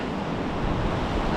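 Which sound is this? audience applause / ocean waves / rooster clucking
ocean waves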